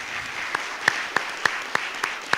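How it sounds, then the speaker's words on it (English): An audience at a school board meeting applauds the Cowan Road Colts, a soft wash of clapping with a few sharper, evenly spaced claps standing out near the front. "Let's give it up for the Cowan Road Colts. We have, you can clap, that's good."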